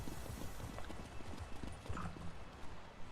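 A horse galloping in the Elder Scrolls Online game, rapid rhythmic hoofbeats pounding steadily and fairly close under a faint ambient backdrop, with a brief whinny midway.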